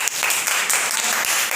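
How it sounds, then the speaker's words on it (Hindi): A classroom breaks into a burst of hand clapping that stays dense and steady, the applause fairly loud and close throughout. "के लिए ताली तो बजा दो।"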